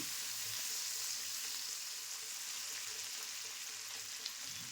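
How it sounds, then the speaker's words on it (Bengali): Sliced onion and tomato fry together in oil in a pan, a steady, even hiss of sizzling heard up close with no pauses and only a faint stir near the end. "টমেটো পেঁয়াজের সাথে খুব ভালো করে মিশিয়ে নেব"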